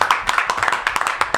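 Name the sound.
clapping on a show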